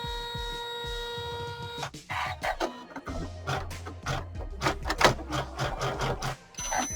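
An embroidery machine starts up for a haunted village quilt tile, beeping before a run of sharp, irregular mechanical clacks and whirs as the needle begins stitching, loud and close with no talk.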